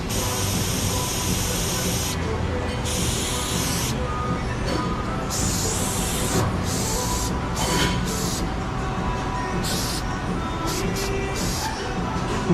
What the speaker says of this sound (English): Brake clean doesn't even work on it.